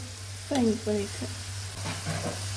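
Onion vada (ulli vada) frying in hot oil, a soft, continuous sizzle with brief stirring and a voice speaking for a moment over a low hum.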